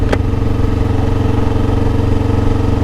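A 2021 Honda CBR500R motorcycle engine runs steadily and loudly throughout, a constant droning hum with a brief sharp click near the start and no talk over it.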